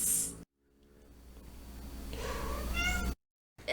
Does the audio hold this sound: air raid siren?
no